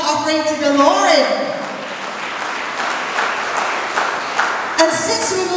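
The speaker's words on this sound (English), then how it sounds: "Let's give a clap offering to the Lord." A church congregation breaks into sustained applause as a clap offering, a broad even clapping roar over which voices and cheers rise near the start and end.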